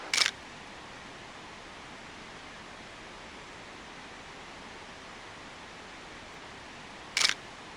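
A 35mm film camera shutter fires twice, once at the start and again about seven seconds later. Each is a short, sharp click over the steady hiss of a creek running through a small, steep canyon.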